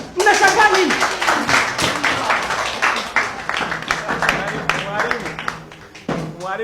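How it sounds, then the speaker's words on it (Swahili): Classroom students clapping together in a lively burst of applause, loud and close, fading out near the end, with voices talking over it. "Pigeni makofi ya nini?"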